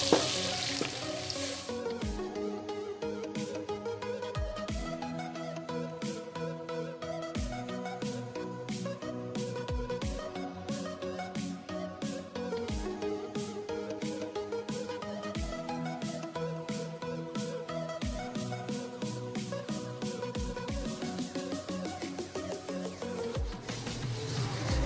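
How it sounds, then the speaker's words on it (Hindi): Two tablespoons of flour roast in melted butter in a pan as the base for a white sauce. A soft, steady sizzle runs throughout, largely buried under rhythmic background music with regular beats. "2 टेबलस्पून मैदा शामिल करते हैं और इसको अच्छी तरह से भूनते हैं"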